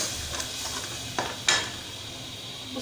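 Spice paste stirred into karhi in a metal pan, a soft sizzle under a few scraping clinks of a spoon against the pan, close and moderately loud, with no talk.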